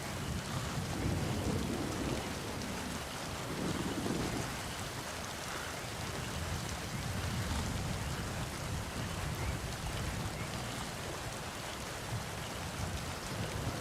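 Steady heavy rain hisses across the whole scene in Metal Gear Solid V: The Phantom Pain, with low rumbles of thunder rolling underneath, strongest in the first few seconds, and no voices.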